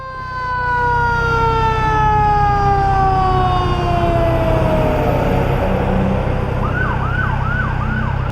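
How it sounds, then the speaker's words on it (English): A fire truck's siren wails past on the road, a loud steady sweeping tone that shifts into fast rapid yelps near the end, over the rumble of the truck's engine and traffic. "a fire truck will never be not cool"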